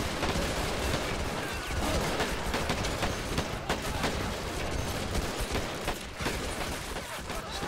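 Rifle gunfire in the Men of War video game crackles almost continuously as a dense fusillade of overlapping shots, loud and busy throughout with no pauses.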